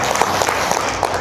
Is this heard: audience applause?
yes